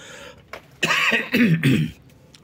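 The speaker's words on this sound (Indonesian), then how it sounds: "Mohon maaf, agak terbatuk-batuk." A few harsh, throaty coughs in a quick burst, close and fairly loud, with a quiet pause before them.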